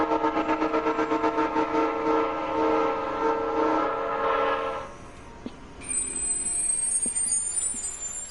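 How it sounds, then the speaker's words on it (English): A train in the video game Dull Grey rumbles rhythmically with loud horn-like tones for about five seconds, then drops to a quieter rolling noise with a thin high whistle near the end. "His voice drowns in the clanking of the train wheels."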